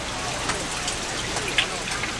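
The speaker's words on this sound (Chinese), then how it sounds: "外面这不是下雨了吗" Rain falls outside, a steady broadband patter and hiss with a few sharper drops standing out, continuous across the moment.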